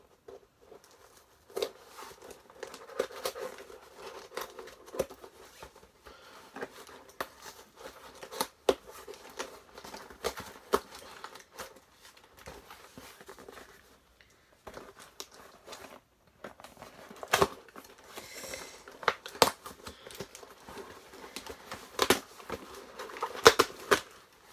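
A sample package is torn and worked open with a bottle cap instead of scissors, giving faint, irregular scraping, crinkling and tapping noises throughout, with no talking.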